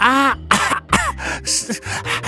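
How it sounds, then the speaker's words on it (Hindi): A man coughs and clears his throat several times in quick, harsh bursts, close and loud, with no talking. "मुंह से हवा निकालते हुए खांसते हुए कहता है"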